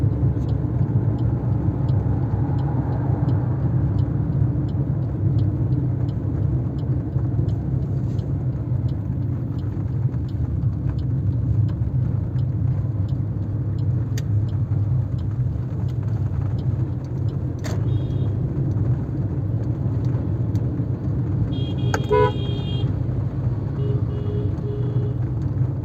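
Car engine droning steadily while driving toward a turn, straining in a low gear before a shift to third; continuous low rumble with faint clicks and a brief higher tone near the end.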